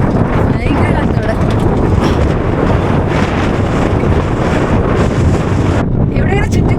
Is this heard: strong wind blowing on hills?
yes